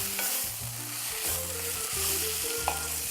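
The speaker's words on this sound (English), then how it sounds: "add about a tablespoon of that spice blend. And stir it in." A tablespoon of spice blend stirred into a sizzling frying pan: continuous frying hiss with repeated scraping strokes of the spoon and a small clack near the end, close and with no talking.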